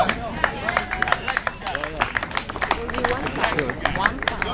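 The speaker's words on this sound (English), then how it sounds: "not too many people clapping for that" Scattered clapping from a street-performance crowd watching a dance crew in London, light and uneven, mixed with background chatter and voices throughout.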